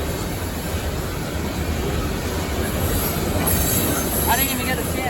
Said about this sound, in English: This is the coal train that was up on that bridge when we got to Brandon